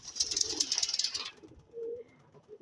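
Bright chirping birds at first, then a pigeon gives a short low coo in the quieter stretch that follows.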